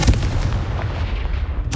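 A deep, sustained boom from a Confringo spell explosion in the Hogwarts Legacy video game, loud and rumbling for the whole short stretch with no speech.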